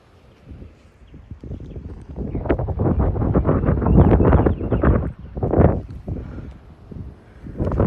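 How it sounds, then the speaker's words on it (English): Strong wind gusts of around 33 mph from the outer bands of a severe thunderstorm in Plano, Texas, roaring across the microphone in surging, buffeting waves that swell and ease over several seconds, loud and close. "Here comes the 33-mile-an-hour wind gusts"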